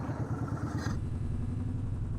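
Motorcycle engines idle in a drive-thru with a steady, throbbing low rumble, close by, with a brief higher clatter at the start.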